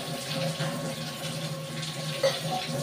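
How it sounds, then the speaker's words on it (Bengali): Water poured into a pot of cooking rice, a steady close splashing flow running continuously for the whole stretch with no voices. "আগে আমি একটু জল দিয়ে দিলাম।"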